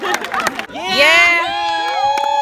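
A graduation crowd bursts into loud whooping and cheering, several voices shouting together close by after a brief clatter, with the cheers trailing off into scattered calls.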